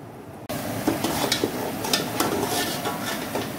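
Masala of ginger and garlic frying in a pan for fish salan gives a steady close sizzle, broken by scraping stirring strokes and light clinks of the spoon, with no talking.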